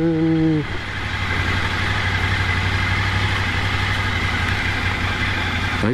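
A Ducati Monster 797 motorcycle engine idles steadily and close, a low even rumble that continues for several seconds after a short voice at the start.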